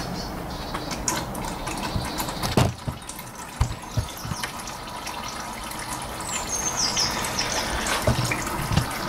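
Motor oil drains from an Audi engine in a steady liquid trickle and gush, close by, with a few brief knocks and clinks over it.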